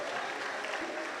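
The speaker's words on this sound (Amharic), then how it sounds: "አጨብጭቡና ለጌታ ክብር ስጡ" A church congregation claps together in a dense, steady burst of applause that fills the room.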